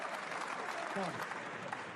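Snooker crowd at a Masters quarter-final applauding Ronnie O'Sullivan, a steady wash of clapping filling the hall throughout, with a commentator's voice faintly mixed in underneath.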